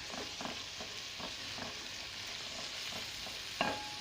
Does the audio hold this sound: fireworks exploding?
no